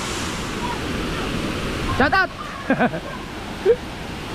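River water flowing beside a highway, a steady broadband rush, with someone briefly shouting over it partway through.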